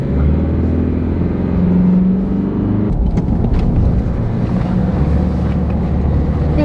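An Isuzu D-Max AT35 pickup on custom Bilstein suspension cruises on the road at about 40 mph, with a loud, steady engine drone, tyre roar and low cabin rumble that shift slightly in pitch partway through.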